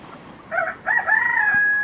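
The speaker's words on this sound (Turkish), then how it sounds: "yeni sürü üyelerimizden bir tane beç burada, iki tane tavuk burada" A rooster crows loudly and close by in a backyard flock of hens and a guinea fowl, a short rising call followed by a longer drawn-out crow, with no talking.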